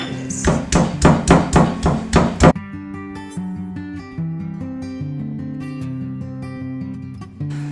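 Garlic cloves and salt pounded into a paste, about eight quick, evenly spaced thumps in the opening seconds, then a steady tonal hum carries on alone with one more knock near the end.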